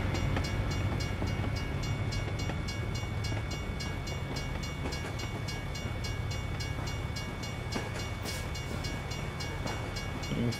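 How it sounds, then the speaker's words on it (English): A train rumbles past at a Kansas crossing in American Truck Simulator, a steady, continuous rolling roar with faint rhythmic clatter from the cars, heard from a moderate distance. "the train went over"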